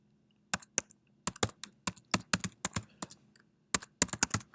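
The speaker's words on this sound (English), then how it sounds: "And then I type in the password here." Keys clack on a computer keyboard as a password is entered, a close series of sharp, uneven taps in small bursts with short gaps.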